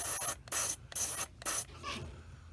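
A Sparmax Flyer SR airbrush sprays solid color paint in several bursts, each a steady close-up hiss lasting about a third of a second, separated by short pauses.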